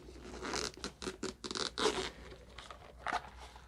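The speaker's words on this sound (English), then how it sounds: "Open the zipper." Zipper pulled open around a nylon hard-shell storage case for a DJI Osmo Pocket 3, a series of close, scratchy ratcheting bursts in uneven stop-start pulls with no talking.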